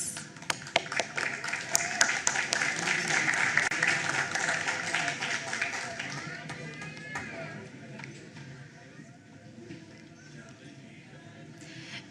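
A school board meeting audience applauds the varsity cross country team, a loud burst of clapping with a few sharp claps that swells and then gradually thins and fades out, with faint voices underneath.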